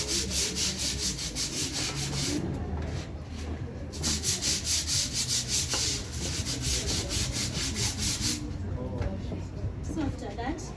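A terrazzo floor is scrubbed in steady, rhythmic back-and-forth strokes, close and continuous, while people talk over it.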